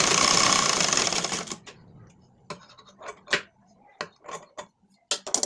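A sewing machine runs fast at first while topstitching a lined blouse, a dense rapid whir, then falls to sparse clicks and short taps of adjustment, close and alone.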